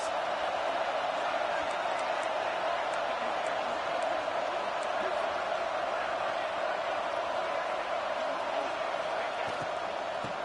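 A stadium crowd in a college football video game sends up a steady, loud roar that holds without a break for the whole stretch, with scattered higher cheers rising from the mass.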